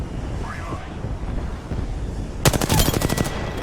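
Automatic gunfire in Apex Legends, a loud close burst of rapid shots erupting after a few seconds of windy, muffled game ambience.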